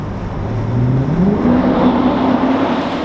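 A Dodge Challenger Daytona 392 driving, its engine note rising steadily as it accelerates, a loud near drone that climbs in pitch and holds over a few seconds.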